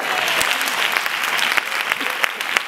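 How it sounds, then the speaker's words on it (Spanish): A live audience applauds loudly at a Spanish stage show of song and coplas, with dense, steady clapping from a large crowd through the whole stretch and a few sharper claps standing out. "¡Un aplauso!"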